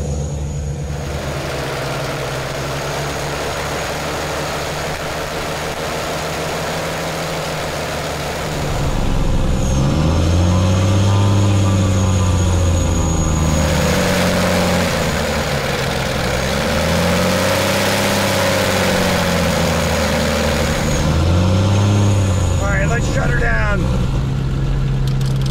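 The number two engine of an abandoned airplane running, a steady loud droning rumble that swells partway through with rising and falling waves of pitch as the engine revs, with voices talking over it.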